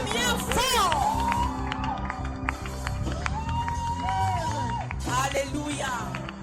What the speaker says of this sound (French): Acclame Jésus bien fort.